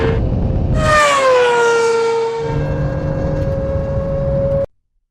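An F1 car, a BMW M1000 RR superbike and a Porsche 911 Turbo S launching together in a drag race: a loud, high engine wail climbs and then settles into a steady sustained drone before cutting off abruptly.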